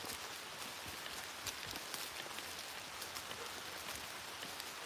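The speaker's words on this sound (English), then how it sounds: "hearing the rain pellet off the leaves" Rain patters steadily on leaves outdoors, a dense, even hiss of countless drops with occasional heavier taps, faint and unbroken, with no voices.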